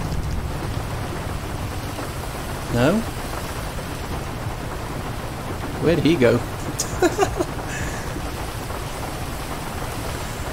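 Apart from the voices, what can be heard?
loud rain and thunder in the video game GTA V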